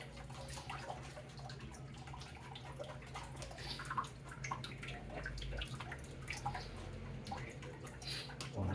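Oatmeal milk and passion fruit juice mix being siphoned, a faint continuous trickling, gurgling flow with small drips, close and quiet throughout.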